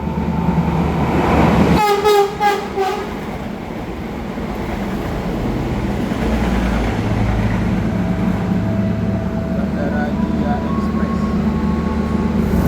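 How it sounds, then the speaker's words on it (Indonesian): An airport train from Yogyakarta International Airport rumbles past close by with a sustained heavy roar, a brief horn blast near the start, and steady rolling rail noise throughout. "ini akan ada lewat kereta bandara ya, dari Bandara YIA dengan tujuan Yogyakarta"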